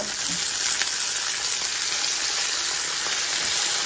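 Green chillies and curry leaves fry in hot oil, crisping for a tempering, with a steady, loud, close sizzle that stays constant throughout with no talking.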